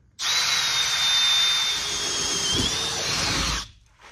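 A power drill whines steadily at high pitch as it bores through layered sheet metal, starting abruptly and cutting off near the end, close and loud.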